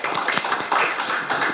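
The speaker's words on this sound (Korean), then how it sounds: "박수로 모시겠습니다" Audience applause welcoming a lawmaker to the podium at an emergency public hearing on prosecution reform, a steady patter of many hands clapping at moderate loudness throughout, with no voices.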